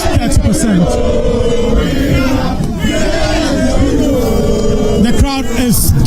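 An uncontrollable crowd at an electoral commission press conference roars and shouts loudly and continuously, voices overlapping in a dense, agitated din close by.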